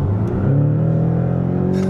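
A Porsche switched into sport mode holds a loud, steady engine note close by, a rising mechanical drone with layered harmonics that builds slightly near the end, with no one talking over it.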